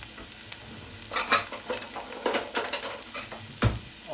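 Onions sautéing with a little sugar in a pan, a low sizzle broken by a few close scraping stirs and a sharp knock of the utensil near the end.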